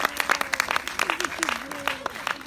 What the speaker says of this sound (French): Je demande de les applaudir bien fort,